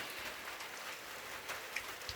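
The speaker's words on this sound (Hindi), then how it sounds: "ये देखिए, ये कैसे बूंदा बांदी से गिर रहे हैं" Light drizzle pattering on soaked soil outdoors during prolonged bad weather in the Ballia area, a steady soft hiss of raindrops with a few faint louder drops, no voices.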